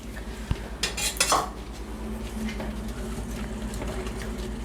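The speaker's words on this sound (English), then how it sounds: "all that's getting whisked together very nicely" A whisk scraping and clinking against a pot while chocolate pudding mixture with cornstarch is beaten together, a brisk burst of metallic clatter early, then quieter rhythmic swishing over a low hum.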